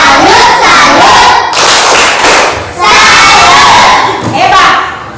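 Loud group clapping and cheering from children in a Catholic religious education classroom, with rhythmic claps, shouted chants and thumps rising and dropping in energetic bursts, voices calling out together close up.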